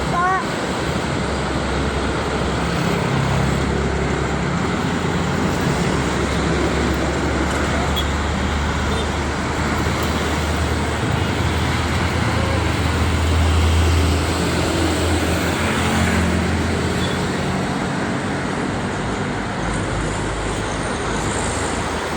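Morning traffic jam on the Jakarta-Cikampek toll road: a dense, steady roar of vehicles and engine rumble fills the scene without pause, with low motor drone throughout.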